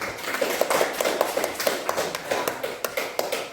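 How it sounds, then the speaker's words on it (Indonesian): Classroom applause for the first student group, a scattered patter of individual claps with uneven rhythm, fairly close and moderately loud, with faint voices underneath. "kita beri tepuk tangan untuk kelompok 1"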